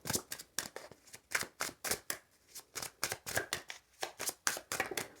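Tarot cards being shuffled and drawn, a quick regular series of crisp riffling snaps and slaps, close and fairly quiet, with no talking.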